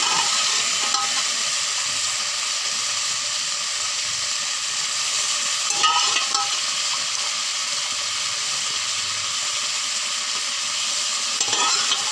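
A taro sour curry is stirred in a pan, giving a continuous hissing simmer with a few louder scrapes of the utensil spaced several seconds apart.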